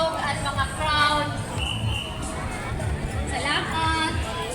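Festival crowd at a Pasayan cooking-contest event, a steady murmur of many voices with a few individual voices standing out close by.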